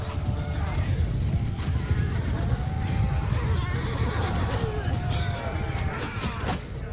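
Horses of mounted archers in a Mount and Blade II Bannerlord battle whinny and neigh over a dense, continuous din of hooves, mechanical clatter and battle noise, with a few sharp clicks near the end.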